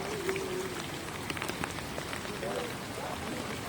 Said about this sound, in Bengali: যেরকমের ঝড় সেই রকমের বৃষ্টি